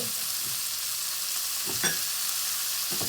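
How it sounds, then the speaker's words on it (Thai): Squid stir-frying in a pan for basil squid makes a loud, continuous sizzle with a couple of brief stirring scrapes, heard close and with no voices. "ต่อไปเราก็มาใส่ ปลาหมึกกันเลยค่ะ"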